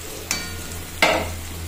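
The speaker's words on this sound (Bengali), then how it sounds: "তারপর একটু পেঁয়াজটা ভাজা ভাজা হয়ে গেল।" Onion frying in oil with bay leaf, five-spice and a pinch of salt gives a steady low sizzle, broken by two brief scraping stirs.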